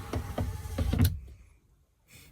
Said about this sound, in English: if you roll the window down,